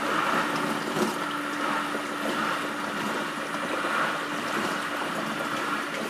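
A Bosch dishwasher with its panels removed runs a wash cycle, water sloshing and spraying steadily inside the tub over a continuous motor hum, with no talking.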